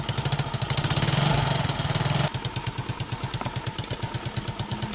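A Yamaha Mio Sporty scooter fitted with a converted 4-pin CDI is started: a dense, revving engine note for the first two seconds settles abruptly into a steady, rhythmic idle chug, close and fairly loud, with no voices.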